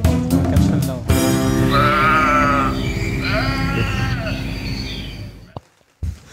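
Sheep bleat loudly and repeatedly close by, wavering calls overlapping in a continuous series over a steady background before a brief quiet near the end.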